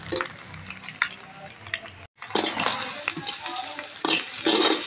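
Ingredients frying in oil for egg fried rice, a close, steady sizzle with repeated scraping stirs of a spatula in the pan, briefly cut off then resuming louder.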